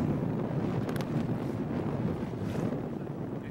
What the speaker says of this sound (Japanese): 今日残念ながら強風でしょ